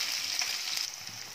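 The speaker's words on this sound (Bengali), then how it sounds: "পেঁয়াজগুলো ভাজবে।" Onions fry in hot oil that was first tempered with cardamom, as part of a home-cooked mutton dish. The sizzle is soft and steady, with a light stir partway through, and no one speaks.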